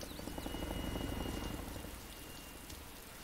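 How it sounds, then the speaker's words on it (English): A Chinook helicopter in the video game DayZ flies overhead with a loud, steady rotor drone and a broad rushing wash of noise, and no one speaks over it. "It's a Chinook!"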